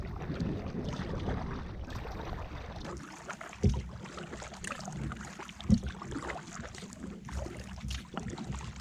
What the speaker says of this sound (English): I think the wind's coming right at me again